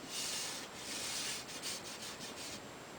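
A pointed hand saw cuts gypsum plaster ceiling molding in quiet, scratchy rasping strokes, steady at first and then quicker and more rhythmic, with no voices.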